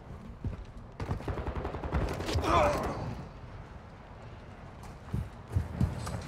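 Scattered, fairly distant gunfire in the video game Warzone DMZ, quick cracks and short bursts spread across the moment with muffled movement noise in between.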